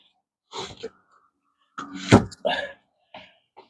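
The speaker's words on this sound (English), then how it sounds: "I'm going to go ahead and slide this door back in." A sliding wooden quail coop door is pushed back into place, giving a scrape, a solid thunk and a few knocks and rattles in short separate bursts, close by and with no speech.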